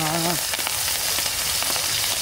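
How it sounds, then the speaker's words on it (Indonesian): Steady, dense sizzling of snails frying in a hot pan, loud and continuous with occasional crackles and pops. "sekarang saatnya untuk menggoreng"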